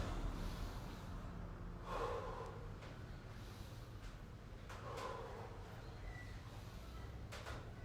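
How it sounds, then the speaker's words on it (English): Deep breathing during a mobility exercise session, with slow airy inhales and exhales recurring every few seconds over a steady low background hum. "Three deep breaths."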